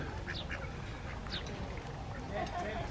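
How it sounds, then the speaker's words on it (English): A few ducks quacking at a moderate distance, short scattered calls over a steady outdoor background rumble. "Got some ducks for a company over there."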